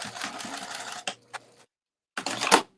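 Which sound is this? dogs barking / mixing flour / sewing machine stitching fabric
sewing machine stitching fabric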